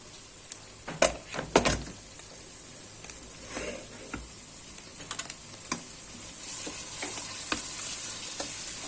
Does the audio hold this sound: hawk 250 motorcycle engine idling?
no